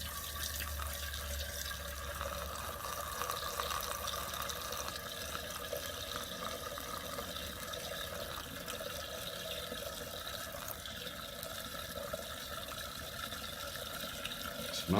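Wine pours steadily from a bottle into a gallon jug during home bottling, a continuous close liquid splash and gurgle lasting throughout with no talking.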